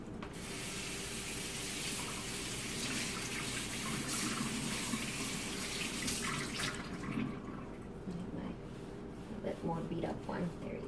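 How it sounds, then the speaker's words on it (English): Tap water runs steadily and loudly into a sink during rinsing, a continuous close gush throughout, with a voice briefly speaking over it near the end. "Let me rinse."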